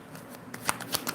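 A deck of playing cards is riffled and shuffled in quick, papery bursts, close and crisp over about a second, with no talking.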